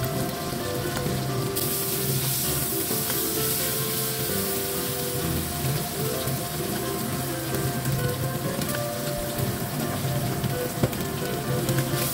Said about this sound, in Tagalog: So ayan, gigisain mo lang siya.